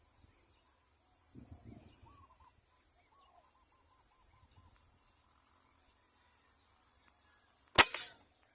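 A single sharp air rifle shot from a PCP air gun cracks out near the end during bird pest control hunting, preceded by faint insect buzzing, a few soft rustles and quiet bird calls.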